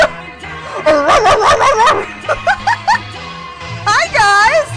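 Bijou the dog barks a few times close by indoors, mixed in with excited voices and laughter.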